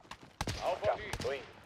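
Several sharp gunshots in quick bursts in Call of Duty: Warzone, close and loud, with people talking over them.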